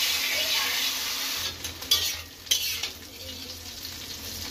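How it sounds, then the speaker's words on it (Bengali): Bitter gourd frying in oil in a pan in a home kitchen, a steady sizzle broken by a few louder scrapes and knocks as a utensil stirs the pieces, with no talk. "করলা আধ ভাজা হয়ে গেছে,"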